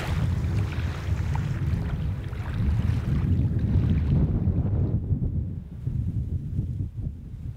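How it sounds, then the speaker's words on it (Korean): Waves on Issyk-Kul, a large mountain lake in Kyrgyzstan at about 1600 m, wash ashore in a steady broad roar mixed with wind, easing slightly partway through. "파도 소리가 바다처럼 크게 들리네요"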